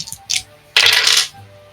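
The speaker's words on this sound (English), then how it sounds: "someone's got all the dice out" Dice clatter across a table during a tabletop roleplaying session: a short rattle, then a longer, louder tumbling clatter, close by, fading into quiet.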